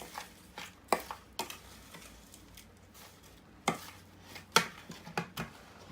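Crab cake mixture being gently folded in a bowl: soft wet stirring with intermittent sharp clinks and taps of a utensil against the bowl, close and moderately quiet.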